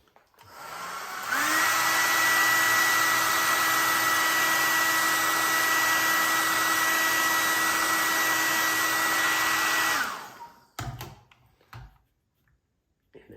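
A heat gun or hair dryer blows steadily while warming plastic grip tape on a Mossberg Shockwave shotgun, a loud continuous whirring drone that holds for about nine seconds, then shuts off, followed by a few faint clicks and handling sounds.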